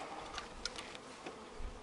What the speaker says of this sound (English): I don't know, there might be 2 pounds of bees there at the most.